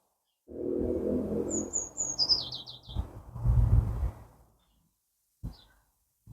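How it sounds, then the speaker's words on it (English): Birds chirp and tweet in a spring garden near a back door with a hazel-pole arch used for feeding birds; high, quick twittering calls ring out over low rustling and handling sounds nearby, then a brief later chirp. "This is where I feed the birds on the arch made out of some hazel poles."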